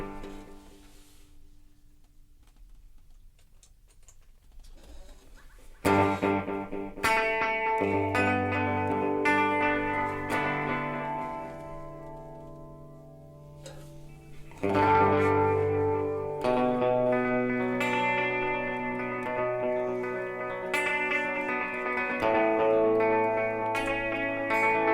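Electric guitar run through a Volante echo pedal with built-in reverb, chords and notes ringing out with repeating, decaying echoes; two strong strummed entries separated by lingering trails, played alone without talk.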